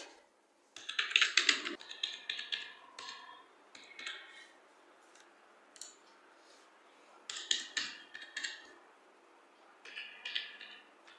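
Bursts of rapid clicking keystrokes on a computer keyboard as barcode numbers are entered in Excel, coming in several irregular spurts with pauses between, close and moderately quiet, with no voices.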